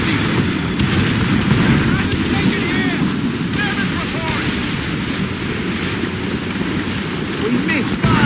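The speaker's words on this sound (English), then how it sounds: "Make good use of your own mortars, Shay." Mortar fire during a naval battle in Assassin's Creed Rogue, with heavy booming blasts and rumbling over constant wind and ocean wash, loud and dense throughout, with voices shouting in the mix.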